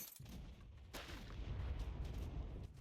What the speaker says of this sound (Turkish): Bir şey patladı matladı ama